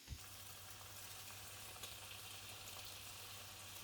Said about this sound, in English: now I'm gonna stir fry it up